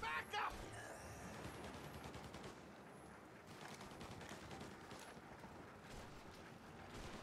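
Gunfire in the video game Mafia: Definitive Edition, playing as Tommy Angelo, with a couple of sharp bursts at the start and then a steady, faint, noisy din of shooting and action throughout.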